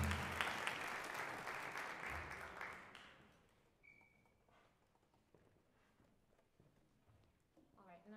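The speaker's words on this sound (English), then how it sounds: "So one more round of applause." Audience applause after a trombone solo at a university jazz ensemble concert, strong at first and fading out after about three seconds, followed by quiet room sound and faint stage noises.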